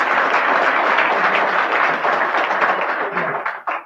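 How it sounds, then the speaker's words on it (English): A crowd applauds Judge Fleury at a judge's investiture ceremony, with steady, dense clapping that holds for several seconds and then tapers off. "Let's give him a round of applause"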